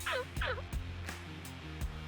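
A wild western turkey tom, strutting up an old road in spring hunting season, lets out loud rattling gobbles, a couple of bursts followed by sharp clucks and chirps, close and unmasked.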